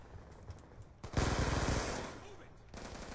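Unsuppressed automatic gunfire in Black Ops 2, a loud rapid burst of close shots lasting over a second, then a quieter tail and another short burst at the end.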